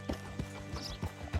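Horse hooves clip-clop at a slow walk in the video game Red Dead Redemption 2, about five evenly spaced muffled steps over a low ambient game background, no talk.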